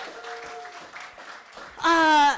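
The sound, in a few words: audience applauding performers at a show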